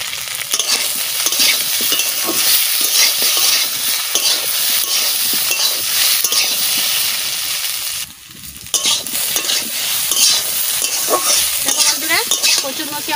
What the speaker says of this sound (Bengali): কচুরমুখী আমার কত সুন্দর করে ভাজা হয়ে গেছে।